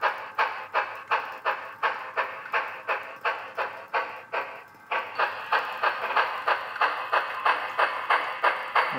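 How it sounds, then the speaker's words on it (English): An Athearn HO scale Challenger model steam locomotive with a Tsunami sound decoder chuffs in a steady, evenly spaced rhythm of crisp puffs, about two per second, close and clear with no talk. "You can hear the chuffing sound from the locomotive."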